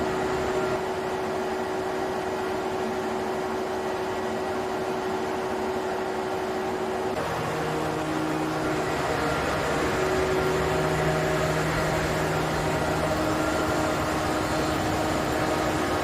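A diesel generator set running at 1500 rpm makes a loud, unbroken mechanical drone with a steady hum, shifting slightly in tone partway through.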